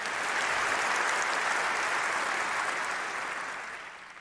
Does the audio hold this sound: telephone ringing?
no